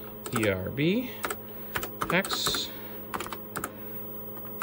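Keystrokes on a refurbished, touchy TRS-80 Model 16 computer keyboard, a scattered run of sharp clicks between stretches of a man's speech, fairly close.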